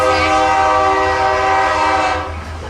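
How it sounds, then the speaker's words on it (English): A BNSF Santa Fe Railroad train passes nearby, its loud sustained horn blaring in a rich chord over the low rumble of the rail cars, holding steady and then easing slightly at the end. "and then I let the train pass"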